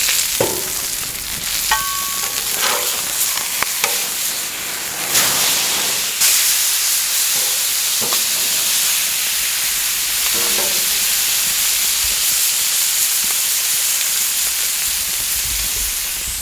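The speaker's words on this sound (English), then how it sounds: "I'm gonna sear this really good." A thick cut of meat sears in a hot pan, sizzling and hissing loudly and continuously up close, with occasional scrapes and clinks of a utensil against the pan.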